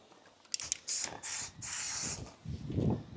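Several short bursts of aerosol spray hissing, each lasting about half a second, with brief pauses between them, close by.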